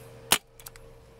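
A single sharp, snappy pop of a small KJ Works MK2 non-blowback airsoft pistol, followed by a couple of faint clicks and rattles in a quiet room.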